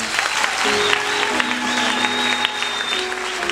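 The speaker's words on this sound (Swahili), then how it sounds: "Makofi mengi sana." A church congregation breaks into sustained applause, a dense steady clapping from many hands that carries on throughout at an even level, with a faint sustained musical tone beneath it.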